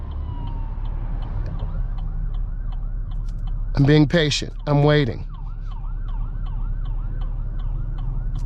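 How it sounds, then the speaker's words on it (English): A wailing emergency vehicle siren sweeps up and down repeatedly, heard from inside a car in traffic, steady in the background with someone talking briefly over it. "listen to the siren"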